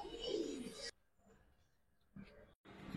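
Giribaz and coloured pigeons cooing nearby, a loud burst of soft throaty calls at the start, then near quiet, then more cooing near the end. No talking.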